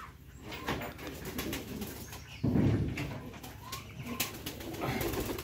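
King pigeons coo softly in a loft, with low throaty calls and occasional wing flutters repeating across the clip, close by and moderately loud.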